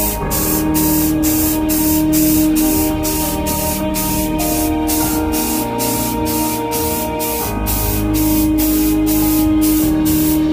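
Aerosol spray paint goes on as a second coat over a car wing extension, hissing in repeated short bursts with brief gaps between passes, close and loud, with no voices.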